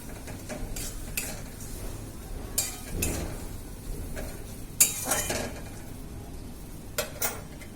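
A spoon stirs and scrapes through a frying spice masala with melting tomato and salt in a pan, with steady low sizzling and intermittent metallic clinks against the pan.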